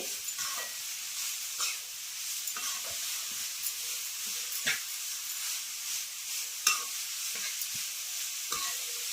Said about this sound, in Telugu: సన్న మంట మీద మూత పెట్టుకొని క్యారెట్ మెత్తపడేదాకా మగ్గించుకుందాం.